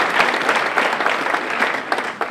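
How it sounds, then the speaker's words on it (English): Applause from a seminar audience for a motivational speaker's team, a loud, close, dense burst of many hands clapping with crisp individual claps standing out, continuing unbroken through the short moment. "give them a round of applause"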